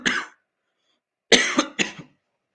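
A man coughs during a technical talk on robot mapping, one short cough, then after a pause two more quick coughs close together, near and clear with silence between.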